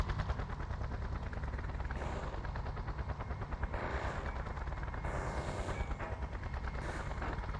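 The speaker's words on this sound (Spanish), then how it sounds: "Y un helicóptero que viene a recogerme" Helicopter arriving in the video game Just Cause, its dense rotor chop thudding loud and steady throughout, mixed with rattling mechanical noise and no talk.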